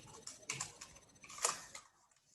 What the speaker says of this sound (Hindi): अब सपोज आप में से किसी का नाम मैं इसमें टाइप कर रही हूं